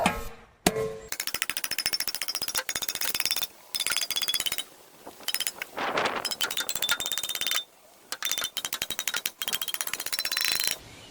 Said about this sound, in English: smash it with a big old hammer if we can bend it back